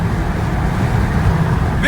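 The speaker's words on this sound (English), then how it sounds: "So you're doing burnouts in motion" A car doing burnouts while moving gives off a loud, steady low roar of engine and tire noise that holds throughout.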